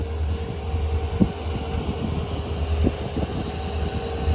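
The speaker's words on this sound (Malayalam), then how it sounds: "ട്രെയിൻ ഇപ്പൊ ഗദഗ് ജംഗ്ഷനിലേക്ക് എത്തിക്കൊണ്ടിരിക്കുകയാണ്." A Vijayapura to Mangaluru special express train pulls into Gadag Junction in Karnataka. A steady low rumble carries rhythmic knocks of wheels crossing rail joints at moderate loudness.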